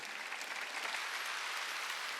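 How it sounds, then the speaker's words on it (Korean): A church congregation at a Wednesday worship service breaks into applause, a dense, steady roar of many clapping hands heard from a distance, moderately loud, holding even throughout without a clear voice on top. "빨리 박수 치라."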